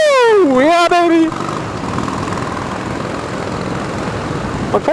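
A Harley-Davidson motorcycle engine drones steadily while riding to the post box, a continuous broadband rumble under strong wind noise. A person yells excitedly over it at the start.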